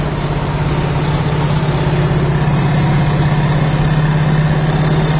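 A steady, loud 1968 Chevrolet Camaro 350 V8 engine rumbles continuously at an even idle, with a deep low drone and no voices.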